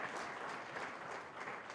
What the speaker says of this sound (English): let us give ourselves a big round of applause for that